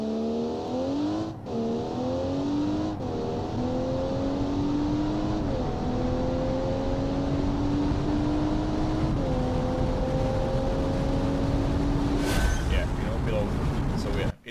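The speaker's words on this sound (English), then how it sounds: "Basically the engine is already spooled up, so there is no waiting for the engine to actually start working." A car engine in the Automation game sits spooled up on launch control, then accelerates through several gear changes with a rising, fairly steady drone and a voice talking over it.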